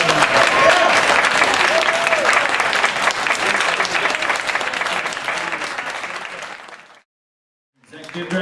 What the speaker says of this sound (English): One more applause for Four Strings Attached.